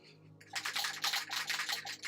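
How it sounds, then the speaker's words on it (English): Spray paint can shaken by hand in a hobby room, a quick run of rapid rattling strokes, close and crisp, steady rhythm after a brief quiet start, no talking. "I'm just giving a can a shake."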